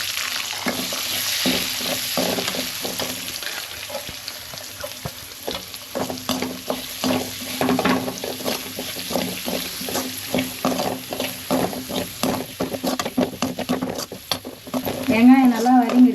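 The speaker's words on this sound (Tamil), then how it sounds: "நறுக்கி வச்ச வெங்காயத்தை இதில் சேர்த்துக்கலாம்." Chopped onions sizzle in hot oil while being stirred, a steady frying hiss with scraping and clinking of a utensil against the pan.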